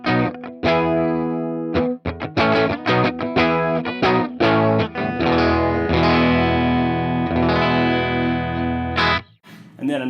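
Crunchy overdriven electric guitar on the bridge pickup through a Purdy Tube Amps MP 18, a run of strummed chords and sustained notes played loud and up front.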